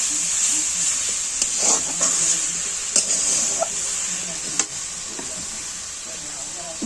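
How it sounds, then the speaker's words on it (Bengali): Boiled water spinach is stir-fried in hot oil, with a steady bright sizzle running throughout. Faint scrapes and taps of stirring sound now and then, and no voice is heard. "ভালো করে শাকটা নেড়ে চেড়ে ভেজে নেব।"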